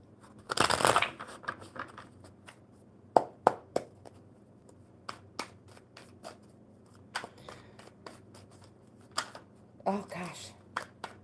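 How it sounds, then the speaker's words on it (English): A burst of card shuffling with a riffle, followed by scattered crisp taps and clicks of cards being handled, with a voice murmuring in the background. "One more good shuffle for Cornelius."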